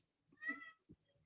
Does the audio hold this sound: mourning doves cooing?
no